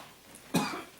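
A single short, sharp cough close to the mic, with a quiet room around it.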